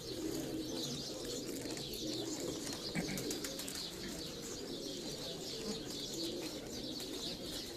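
Pigeons coo softly and steadily on a rooftop during a pigeon-flying tournament, with low repeated coos, occasional chirps and faint wing flutters amid distant ambient noise.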